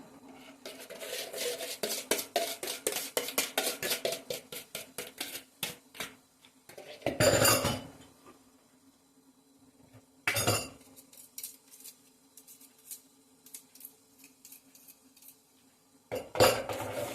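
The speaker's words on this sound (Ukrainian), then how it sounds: "Далі додаємо це взбите в цю мисочку і взбиваємо, гарно-гарно збиваємо його." A honey cake mixture is whisked in a bowl with fast, rhythmic metallic clinking for about six seconds, then short separate bursts of whisking after quiet pauses, close by and with no speech.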